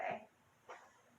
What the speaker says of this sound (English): sorry about my crazy dog